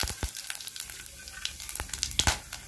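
Cumin seeds and whole dried chillies crackle in hot oil, a steady close sizzle broken by sharp pops and a few clattering stirs, with no talk.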